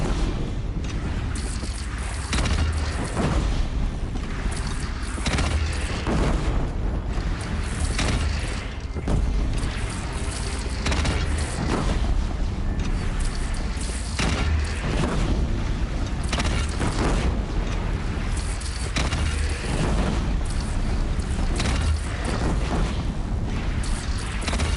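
Cannon fire and explosions in the video game Horizon Zero Dawn keep up a dense, loud battle din of repeated booms and crashes for the whole stretch, with no clear speech.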